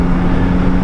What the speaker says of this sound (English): Engine certainly picks up when you need it to.